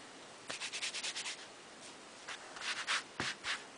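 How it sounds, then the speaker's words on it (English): Hand rubbing a surface firmly to press colours onto it: a series of quick, close scratchy strokes in two bursts with a short pause between, fairly quiet and heard alone. "Give it a good rub."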